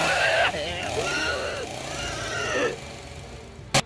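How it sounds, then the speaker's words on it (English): A sputtering chainsaw engine revs and stutters in uneven bursts, loud and close, ending with a sharp click. "she could hear him now, the sputtering of the chainsaw calling her name"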